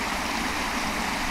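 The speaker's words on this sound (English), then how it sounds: "There's nothing like the sound of fresh running water through the countryside." Fresh running water in the countryside, a steady, continuous rushing stream that fills the whole stretch without pause, close and moderately loud with no voices.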